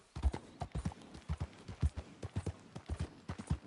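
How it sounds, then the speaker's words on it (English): Horse hooves clip-clop in a quick, steady rhythm as a horse bolts off with a rider on its back in a Western video game, the hoofbeats close and prominent with no voices over them. "So that horse just took off"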